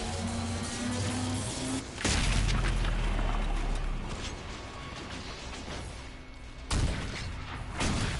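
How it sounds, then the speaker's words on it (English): Explosions in the video game Dragon Age: Inquisition, with deep booming blasts over a dense layer of battle noise and game music, including a sharp hit near the start and another later on. "Explosions."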